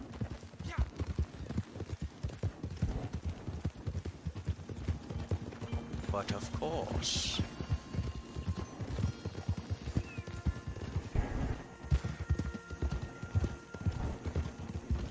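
Horse hooves clip-clop steadily as the horse is ridden in the video game Red Dead Redemption 2, a continuous rhythmic trot with a brief whinny partway through and someone talking over it.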